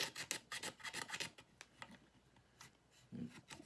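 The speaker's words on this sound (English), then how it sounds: "just start scraping it down" Scraping down the repaired neck of a Gibson Les Paul guitar with a hand blade, quick rhythmic rasping strokes up close and fairly quiet, then a few slower scrapes after a pause.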